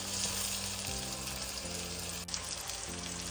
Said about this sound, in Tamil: ஸோ ஆனியன் நல்லா வதங்கி வரும்.